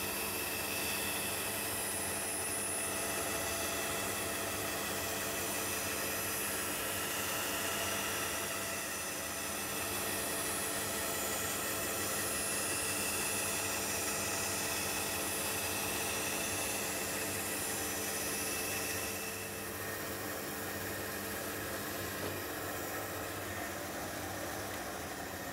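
A bandsaw cuts a perfect circle from a disc spinning on a jig, giving a continuous, even machine whine and hum that holds for the full stretch, with slight shifts near the end.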